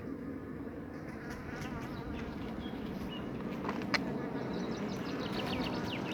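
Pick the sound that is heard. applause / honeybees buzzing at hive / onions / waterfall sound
honeybees buzzing at hive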